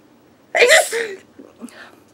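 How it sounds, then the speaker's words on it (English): A single sharp, close sneeze bursts out loudly, followed by a short, softer breathy sound as it fades. "I gotta sneeze."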